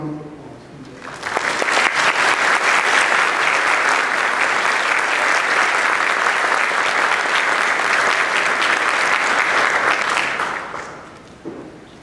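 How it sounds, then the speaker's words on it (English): Audience at a concert applauds after a bassoon performance, a dense, loud, sustained round of clapping lasting about ten seconds before it fades out. "Let's have another round of applause."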